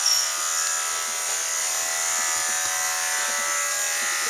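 Electric clippers buzz steadily and close up while shaving the back of a boy's neck during a haircut, a continuous high-pitched hum with no talking.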